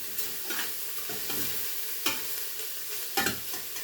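Onions frying and caramelizing in a pan for chile rellenos, a continuous close sizzle broken by several scraping stirs of a utensil, a few louder strokes near the end, no voices.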